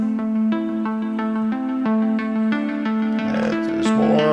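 A bright lead synth passed through a Vintage Warmer saturation plugin plays a repeating stepped melody of sustained, harmonic-rich notes, loud and close, with a smeared, noisier texture toward the end.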